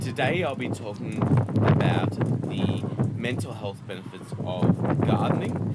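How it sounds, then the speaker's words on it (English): Strong wind buffets a microphone outdoors on a cold, wet, windy day in Melbourne, producing a constant low rumble and gusty roar beneath a person speaking close to the mic throughout. "Apologies for the wind in advance"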